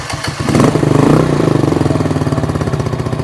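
An RPS Condor 150, a 2023 Honda Grom clone motorcycle, runs just after startup. It gives a brief rise in revs, then settles into a loud, close, rapid pulsing idle.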